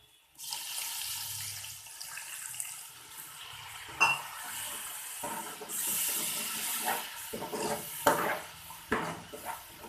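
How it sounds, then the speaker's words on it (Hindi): Water runs and splashes into a cooking pot of spices with a steady hiss, punctuated by a few clinks of metal, no voices. "अब हम इसे थोड़ा सा पानी लगा लें।"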